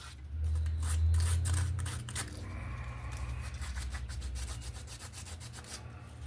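Brass fittings on a hidden-tang deer antler knife are filed and smoothed by hand, giving close rasping strokes that start heavy and loud, then continue as lighter, steady rubbing scrapes with no talking.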